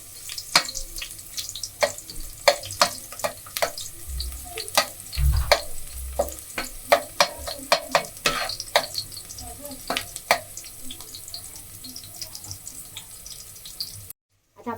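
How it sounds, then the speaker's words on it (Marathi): Garlic fries in a generous amount of hot oil in a home kitchen as it browns for a Marathi-style chicken curry. A steady close sizzle runs throughout, with stirring scrapes and clinks and no talking. "लसूण चांगलं ब्राऊन होईपर्यंत फ्राय करून घेऊया."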